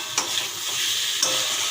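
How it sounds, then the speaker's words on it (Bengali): Potatoes and pointed gourd go into a hot pan of fried spice masala, setting off a loud, steady sizzle broken by two sharp splashing bursts as the pieces land and are stirred, with no voices. "এখন আমি আলু পটলগুলো ছেড়ে দেব"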